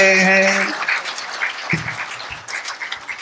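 An audience at a Hindi comic poetry gathering breaks into applause after a voice, with a burst of claps that continues as uneven, moderately loud clapping.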